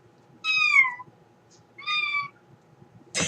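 A person imitates a cat's meow with their voice, two drawn-out, whiny meows about a second apart, fairly loud and close, over a quiet background, ending with a brief sharp noise.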